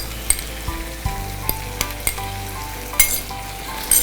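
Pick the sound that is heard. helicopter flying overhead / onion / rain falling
onion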